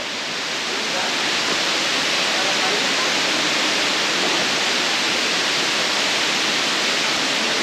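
Madakaripura Waterfall in East Java roars as a dense, steady rush of falling water, loud and unbroken throughout with no change in intensity.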